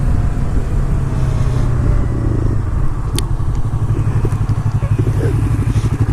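Yamaha R3 motorcycle engine on the highway, a loud close buzzing drone with steady throbbing pulses and wind rumble, shifting to a lower, choppier beat partway through.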